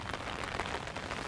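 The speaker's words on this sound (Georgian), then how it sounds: "აგერ ბატონო, წვიმა, დავშველდით კიდეც" Rain falls steadily outdoors, a soft, even hiss of drops on surfaces throughout, faint and continuous with no voices.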